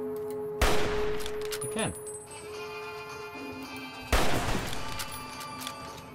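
Rapid gunfire bursts in Fallout New Vegas ring out in two loud volleys with echoing tails, someone speaking briefly over the shooting.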